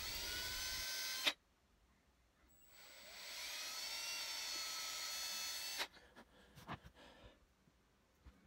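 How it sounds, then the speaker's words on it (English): A small high-pitched power drill whining in two sustained bursts with a quiet gap between, drilling holes in an epoxy pike swimbait lure, followed by light clicks and handling taps. "I'm going to be drilling out all the holes"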